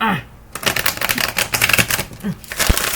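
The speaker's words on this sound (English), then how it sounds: "I do feel like I need to shuffle one more time" Rapid papery riffling and flicking of stiff tarot cards being shuffled, a dense crackling burst with a few sharper snaps, close up.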